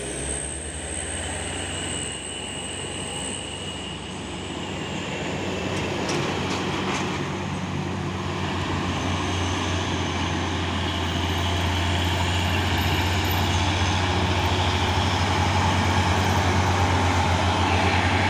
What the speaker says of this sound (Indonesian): Wah, pasukan truk sawit berlewatan nah.